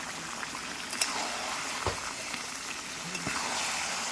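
Chicken coated in ground spice paste sizzles steadily in a pan as its released water cooks off, a close continuous frying hiss with small pops and faint stirring scrapes.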